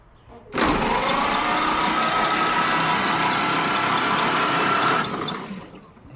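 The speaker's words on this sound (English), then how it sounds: "So I'm going to push the starter switch here and see what happens." A 1931 Ford Model AA truck engine, stored for 25 years, turns over on its starter in a loud, steady, grinding whir lasting about four and a half seconds before it cuts off and fades.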